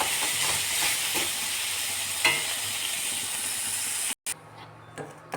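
Pumpkin pieces frying in a pan give off a continuous hissing sizzle with faint stirring scrapes, broken by a brief silence near the end before the sizzle resumes more quietly.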